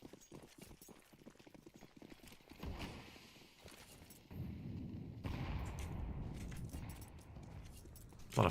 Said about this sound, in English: A lot of HE grenades being thrown in.